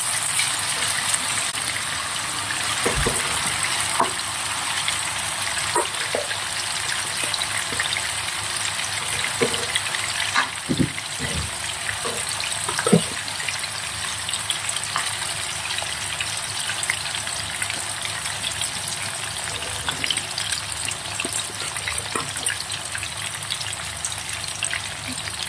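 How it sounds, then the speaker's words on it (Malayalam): Tuna pieces frying in hot oil in a pan, a steady close sizzle and crackle running the whole time with scattered pops and spits, no talking. "ഇങ്ങനെ ഫ്രൈ ചെയ്യുകയാണെങ്കിൽ 2 ബാച്ചായിട്ട് ചെയ്തെടുക്കാം."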